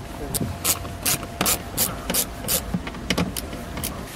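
Screws are driven into a car's license plate bracket, replacing a missing clip. A close, steady series of ratcheting clicks repeats in short bursts.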